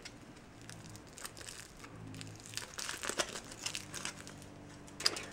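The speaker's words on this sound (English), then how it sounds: "The ring is wrapped in foil." Foil being unwrapped from a ring, soft crinkling and rustling in close, quiet bursts that grow busier toward the end, with no talking.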